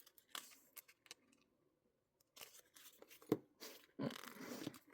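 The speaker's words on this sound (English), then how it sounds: "these little scissors are perfect for this." Small scissors snip through paper during journal crafting, giving several short, quiet cuts separated by pauses and light handling noises.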